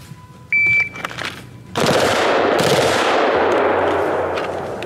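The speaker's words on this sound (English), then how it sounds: "we're gonna do 2 bursts, around 4 rounds on each" A Bushmaster ACR rifle fired on full auto at range targets in real life. A few short electronic beeps come first, then a loud, sustained rattle of rapid shots rings on to the end.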